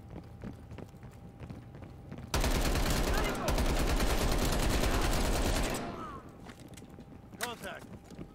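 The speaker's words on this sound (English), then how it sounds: "Got me a little submachine gun." Submachine gun bursts in Call of Duty: Cold War, a loud, sustained automatic volley of about three seconds erupting close up, framed by quieter ambient game sound and scattered clicks before and after.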